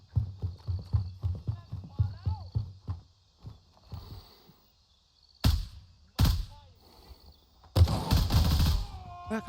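Gunfire in the video game Gray Zone Warfare: a few loud, sharp bursts cut in among voice and game sounds, with a longer volley of shots near the end.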